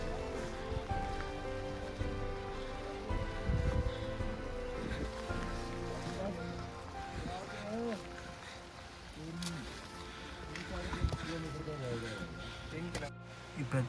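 Heavy rain pattering steadily on a Himalayan trek to Beaskund, the source of the Beas River, a dense close wash of drops that runs under talking voices throughout.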